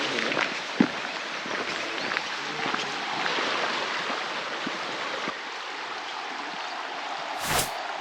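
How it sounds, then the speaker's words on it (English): Steady rushing water from the river and waterfalls along the Ingleton Waterfalls Trail near Thornton Falls, North Yorkshire, a continuous broadband roar filling the whole stretch with a few faint knocks and a brief sharp burst near the end. "the river and the waterfalls."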